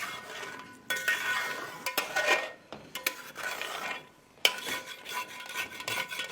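Chicken simmering with cream and kasuri methi in a pan is stirred with a metal spoon, giving repeated scraping and rasping strokes against the pan in uneven bursts, close up, with no voice.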